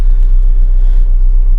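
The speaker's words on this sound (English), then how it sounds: "Okay, the engine feels happy." A 1990 Nissan 180SX Turbo idles with a steady, close, loud low rumble, unbroken throughout the short stretch.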